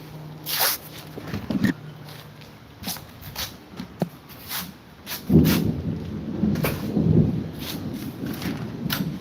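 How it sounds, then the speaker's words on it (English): Rain begins falling outdoors in a Texas setting, with thunder rumbling at moderate distance over steady drizzle; low booms swell and fade between scattered patters, with no talk. "It's starting to rain, guys."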